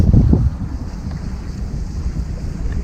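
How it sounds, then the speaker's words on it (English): Steady wind buffets the microphone on open water during a fly fishing session, a loud rumbling gust at the start easing into a constant low roar that persists to the end. "the wind's actually right off of my left cheek"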